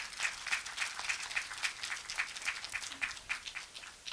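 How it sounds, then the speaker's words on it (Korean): Sparse, rhythmic clapping from a small audience at a Korean online journalism awards ceremony, individual claps spaced evenly and moderately near. "여러분들 큰 박수로 맞이해 주시죠."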